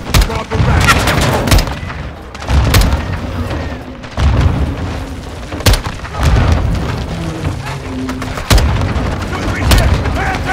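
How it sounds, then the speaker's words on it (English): Grenade blasts and gunfire in the Call of Duty Modern Warfare 2 (2022) video game, with repeated heavy booms and bursts of shots in an intense firefight, while soldiers shout over the din. "They're launching grenades!"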